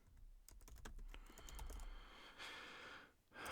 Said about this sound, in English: I'm going to go ahead and type in my first and last name